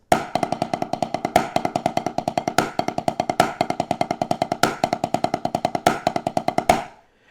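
A fast, rapid-fire drum fill of 11-stroke and 7-stroke rolls sweeping from ride cymbal to floor tom, strong accents recurring at a steady pace, bright cymbal wash over the hits, ending abruptly.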